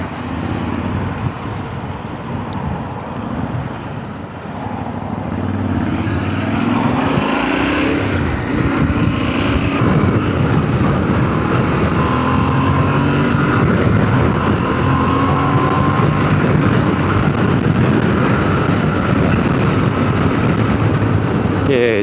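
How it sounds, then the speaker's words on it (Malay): A 2023 Yamaha Tenere 700 motorcycle engine while riding, a loud continuous rumble with wind and road noise, building after a few seconds and holding steady with gradual pitch changes. "hari ni kita akan buat daily ride di atas Yamaha Tenere 700 tahun 2023 ini."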